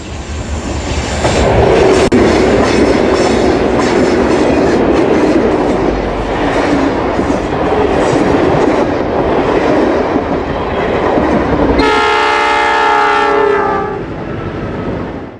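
A passenger train, the Klamath on the Shasta Route with Illinois Central cars at the rear, rumbles past near Modoc Point with steady clattering wheels, then a loud, sustained horn blast sounds near the end.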